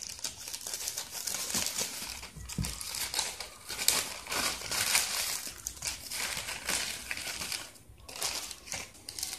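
A plastic mail pouch holding heat-shrink insulation tubing is torn open and handled, giving steady close crinkling and crackling of plastic for several seconds with no talk.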